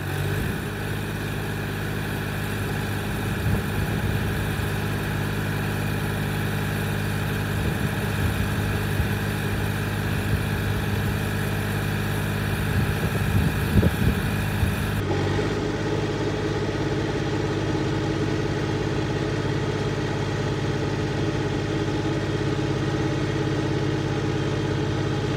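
An Arbos 202 25 HP tractor engine pulling under load in its lowest crawler first gear, a steady droning hum with a low, even pitch that runs continuously and close, with no talking over it.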